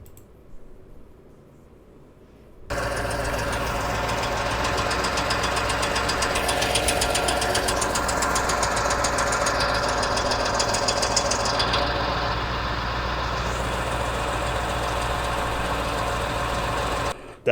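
A Lexus LX engine with a knocking fault runs steadily for about fifteen seconds, a loud continuous rattling drone with no voices, after a quiet start.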